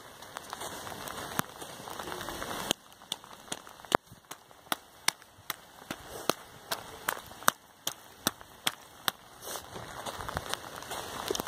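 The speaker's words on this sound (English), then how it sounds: "it's like really, really raining. Like really hard." Heavy rain falls on trees and bushes in a garden in Potsdam: a dense, steady hiss of downpour with loud, sharp drips and taps landing close by at an irregular pace.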